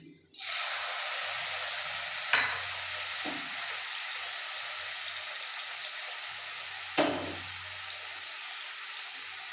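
Spice paste dropped into a hot pan for chana dal, bursting into a loud steady sizzle that holds throughout, with two sharp stirring scrapes partway through.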